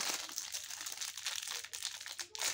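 Crisp crinkling and rustling of plastic packaging being pulled off a cheap watercolor paint set, close and continuous with small bursts of crackle, and no talking.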